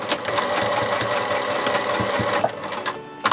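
A sewing machine stitches a small basting tuck on a dress fabric, running in a steady rapid mechanical whir close by for a few seconds before stopping abruptly.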